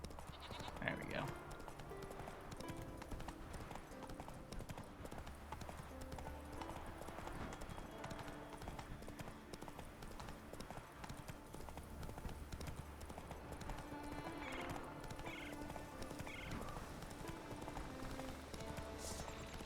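Roach the horse galloping in The Witcher 3, a steady rhythmic clip-clop of hooves running throughout under game music and ambience, with someone talking over it.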